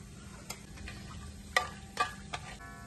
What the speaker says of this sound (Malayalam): ഇവിടെ പാത്രത്തിൽ എണ്ണ നന്നായി ചൂടായി വന്നിട്ടുണ്ട്. അതിലേക്ക് ഒരു 6 ഏലക്ക, സിനമൺ സ്റ്റിക്ക്, ഗ്രാമ്പു, ഇതെല്ലാം ഒന്ന് ഇട്ട് മൂടിക്കാം.